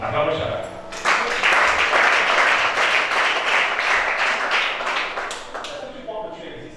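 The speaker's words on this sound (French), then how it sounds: "Acclamons chacun." Church congregation clapping together, a steady wave of many hands that starts abruptly after a short spoken line, carries on for about five seconds and then tapers as talk resumes.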